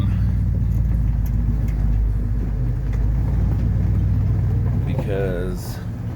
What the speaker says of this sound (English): Now this truck, I think I'm just gonna pull forward and then back it up by my neon